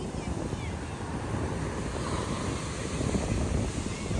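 Rough, stormy sea surf pounds the shore at Dwarka, a continuous loud wash of breaking waves mixed with gusting wind buffeting the microphone, steady throughout with no voices.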